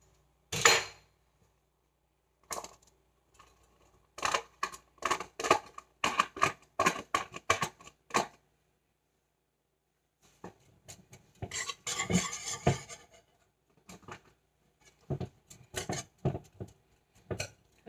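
Corn and a little milk being stirred to break up the clumps, heard as scattered bursts of clinking and scraping from a utensil against a bowl, close and fairly soft, with short pauses between the bursts.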